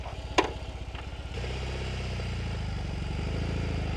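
A BMW R18 motorcycle idling in roll mode, a steady low engine rumble with a brief clatter near the start, close and alone.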